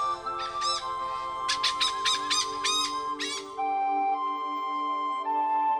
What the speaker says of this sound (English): The hornbills are the most romantic bird.